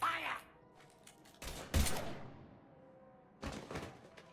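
Gunfire in the video game Mass Effect 3 comes as a few separate bursts of shots with dull thuds, moderately loud against a quiet game background.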